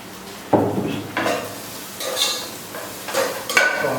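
Sliced onions hit a hot pan for a Christmas special dish and are stirred, with close clanks of a utensil against the pan over a soft background sizzle.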